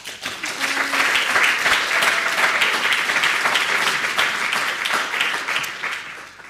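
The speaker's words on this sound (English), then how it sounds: "Let's give a big round, a big applause to Nina." An audience applauds a conference speaker, Nina Walia, at a talk on responsive clothing: steady, loud, dense clapping sustained throughout, with no voices over it.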